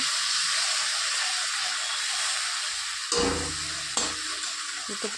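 Tilapia curry with potatoes and mustard sautéing in a pan, a steady broadband hiss and sizzle throughout, broken by a couple of sharp spoon scrapes and clatters near the end.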